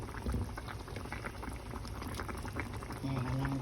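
Curry of pickled bamboo shoots with chicken bones bubbling steadily in a pot, a dense continuous simmer with small pops, close by and fairly loud.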